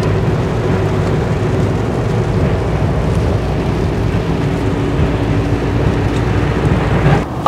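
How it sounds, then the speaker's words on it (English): Heavy rain pours down in a steady, dense broadband wash outdoors at night during a car meet, loud and unbroken for the whole stretch with a low rumbling hum beneath it. "Wow, it's really raining. Look at this, guys. Like it's pouring raining out now."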